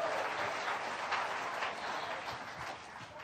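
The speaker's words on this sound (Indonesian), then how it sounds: "Berikan tepuk tangan yang meriah buat Tuhan" A church congregation breaks into lively applause, a dense, sustained wash of many hands clapping at once that fills the space without any speech.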